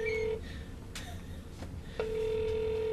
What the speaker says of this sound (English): Yeah, now it's ringing.